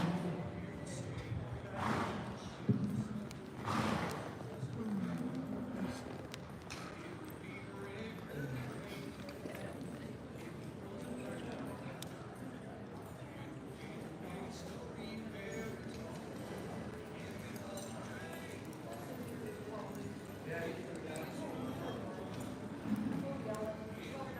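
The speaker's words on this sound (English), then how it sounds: "The next horse to work will be She's a Smart Metallic and Mark Whitman." Horse hooves clip-clop on the dirt of a ranch cutting show arena in Montague County, running and stopping in uneven bursts under steady talk and background crowd noise.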